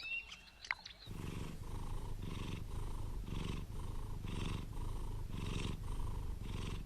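A resting mother cat purrs close up in a steady, loud rhythm of repeated rumbling pulses that carries on continuously after a brief quiet start.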